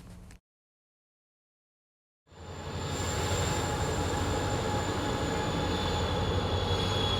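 Southbound Amtrak Cascades train 505 leaving Tukwila station in Washington: after a moment of silence, a steady loud rumble of rolling wheels rises, with a thin high squeal from the rails running throughout.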